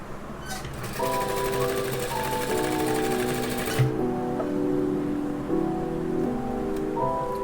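A sewing machine runs in fast continuous bursts, stitching pleats on a baby frock, its whirring hum close and steady with brief pauses and restarts, no talking.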